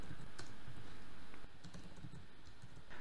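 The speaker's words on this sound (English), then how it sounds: "I'm just going to type in guessed word" Steady typing on a computer keyboard, close and fairly quiet, with irregular clicky keystrokes while code is entered, and no talking over it.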